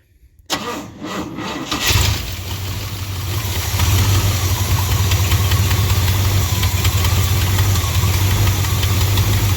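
An old one-ton truck, left sitting for 20 years, cranks in a few rough bursts, then catches and settles into a loud, steady running idle close by.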